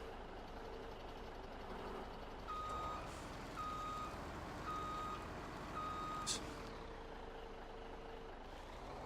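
Vehicle reversing beeps in the video game Farming Simulator 17 during tree harvesting: a steady series of evenly spaced electronic beeps over a constant low engine rumble, moderately faint.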